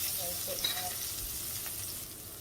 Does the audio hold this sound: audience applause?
no